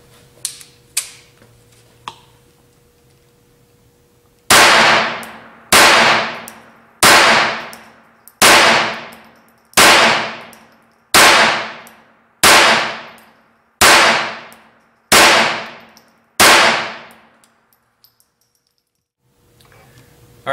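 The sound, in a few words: unsuppressed Ruger P22 pistol gunshots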